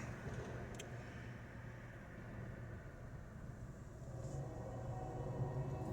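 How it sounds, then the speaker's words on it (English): A distant train rolling past, heard as a low, steady rumble with a faint hum that swells slightly toward the end, quiet and without talk. "That's a train."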